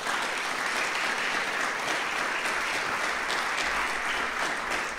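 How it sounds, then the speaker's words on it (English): Audience applause at a symposium welcome and opening panel, a steady, dense wash of clapping that fills the whole stretch evenly without pause, moderately loud and with no voices over it. "So could we have an applause for Marilyn?"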